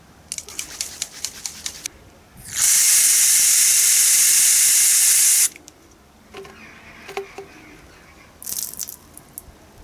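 Liqui Moly sensor cleaning spray blasts onto a car's MAF sensor in one loud, steady hiss of about three seconds, with softer clicks and handling noises before and after and a brief second spurt near the end.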